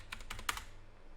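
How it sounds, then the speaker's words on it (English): A password goes into a computer keyboard in a short, quick burst of about half a dozen close, crisp key clicks, then stops. "type in your password"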